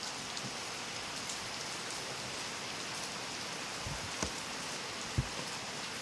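Rain falls steadily at night in a constant soft hiss, with a few louder drops or taps near the end and no voices.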